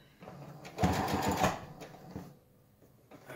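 Sewing machine stitching along the edge of a button-up shirt, a short whirring run of rapid needle strokes in the middle, with quieter handling sounds before and after.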